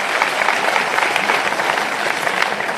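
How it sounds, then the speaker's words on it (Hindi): Steady, dense applause from a large audience of elected panchayat representatives at a Congress event in Bhopal's Ravindra Bhavan, filling the hall evenly throughout with no voices breaking through. "उसके लिए आप अपने लिए तालियां बजाएं जोर से"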